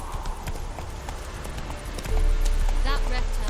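A horse galloping in The Witcher 3 on PC, its steady clip-clop hoofbeats running throughout at moderate level, with background game ambience and a brief in-game voice near the end.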